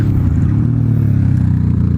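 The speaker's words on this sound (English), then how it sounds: "This is standard exhaust sound, no modification, it comes like this from factory, and it's loud" Close and loud, the stock exhaust of a MITT 400 MB motorcycle holds a steady throbbing drone with a pulsing, slightly rattly character, without any voices.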